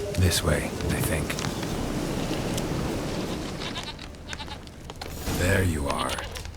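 A goat in the Witcher 3 video game bleats near the start and again near the end, over a steady outdoor ambience, with someone talking in between.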